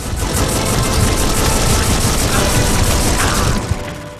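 Dense, continuous gunfire with ricocheting rounds from the video game Too Human, fought against undead enemies, a loud unbroken rattle of rapid shots running the whole stretch with one sharper impact near the end.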